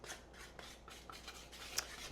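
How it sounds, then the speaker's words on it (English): Apple cider donut cake batter being whisked in a bowl, a faint, soft rhythmic swishing in quick repeated strokes, close and quiet. "now we get to whisk it all together"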